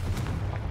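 A Confringo fire spell explodes in the Hogwarts Legacy video game near an altar, producing a dense, booming burst with rumbling low-end energy that sustains loudly across the short moment, with no talking.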